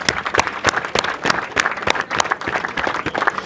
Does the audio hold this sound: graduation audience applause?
yes